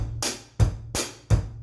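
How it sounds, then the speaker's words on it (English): Drum groove with the hi-hat opened on the offbeat eighth notes: four loud, bright washy open-hat hits over low kick thumps, evenly spaced and sizzling briefly before choking, close and alone. "we're going to open the hi-hat off the beat"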